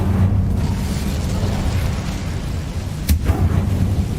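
A fiery spell cast in the Hogwarts Legacy video game, a loud rumbling whoosh of flame over a dense game soundscape, with a sharp crack partway through.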